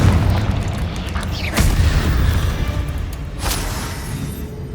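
A spell blast in Hogwarts Legacy on PS5 booms loudly over a constant rumbling game backdrop, with sharp bursts around the middle and again later, each decaying quickly.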